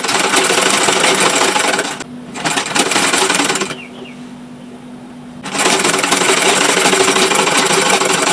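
A sewing machine back-stitches at the neckline of a triangle bubu flare dress, running loud and steady, cutting out briefly twice, then resuming its continuous whirring hum.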